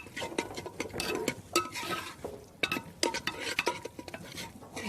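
Sarson ka saag is stirred into an onion and tomato tadka, a utensil scraping and knocking against the pan in irregular strokes, close and fairly quiet.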